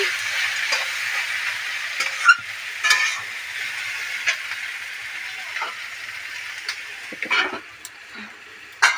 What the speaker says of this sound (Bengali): দেখো এখানে রান্নাবান্না শুরু করে দিয়েছি এখানে ভেন্ডি শুরু করছি